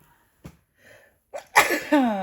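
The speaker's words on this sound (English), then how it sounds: "I'm so sorry, I'm going to sneeze." A single loud sneeze, preceded by a few faint sharp inhalations, then a brief breathy tail.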